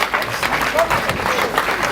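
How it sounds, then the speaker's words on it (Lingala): A congregation applauds the Lord during a church service, a steady wash of many hands clapping at once, even and continuous throughout with a faint voice mixed in. "On acclame le Seigneur."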